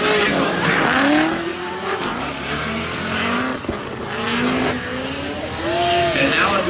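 Drift cars battle in a Formula Drift competition, engines screaming and revving in sweeping pitch with tire noise throughout, loud and continuous, while commentary runs underneath.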